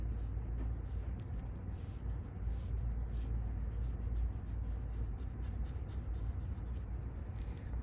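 A pencil scratches across paper while a skeleton design is sketched for a tin craft, with steady soft strokes over continuous low background hum.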